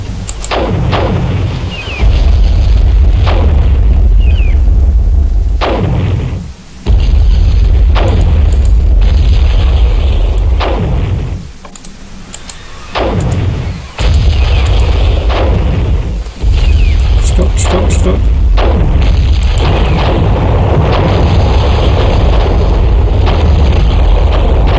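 Units in the strategy game Cossacks European Wars fire on people, giving loud repeated booming artillery and musket volleys with rolling explosions throughout, broken by a few short pauses.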